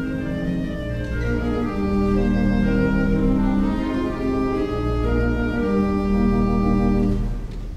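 A theatre organ plays the fourth chorus of a tune after a key change, with full, loud sustained chords and a rich, layered tone over a steady bass line, and no voices.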